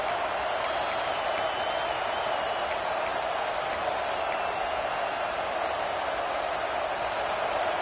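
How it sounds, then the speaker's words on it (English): A roaring stadium crowd in the College Football 25 video game, a dense and constant wash of cheering noise with a few faint whoops standing out above it. "Decibels rising as the crowd gets behind this defense on 3rd down"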